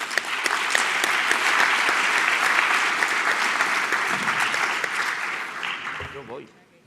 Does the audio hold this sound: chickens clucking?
no